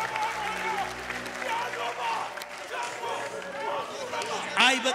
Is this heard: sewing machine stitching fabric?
no